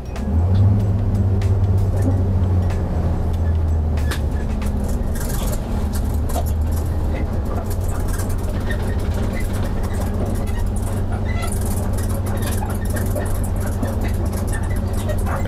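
A car pulls away as the throttle is applied during a braking test, heard from inside as a steady engine drone with road rumble that holds throughout.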